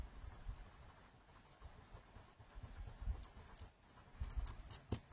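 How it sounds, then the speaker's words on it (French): An eraser rubs back and forth across scrapbooking paper in quick, scratchy, close-up strokes, fairly quiet and steady, with a few louder scrubs near the end. "Donc, dans un premier temps, je gomme."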